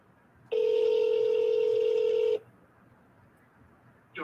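A telephone sounds a steady dialing tone for about two seconds while calling back a sales lead. The tone is clear and loud over a quiet line, then stops abruptly, with no talking.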